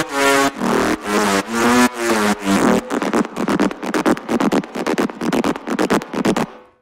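A big, thick synth lead with no KSHMR Essentials processing plays alone, first a few sustained chordal notes, then a fast run of short, punchy stabs in a steady rhythm.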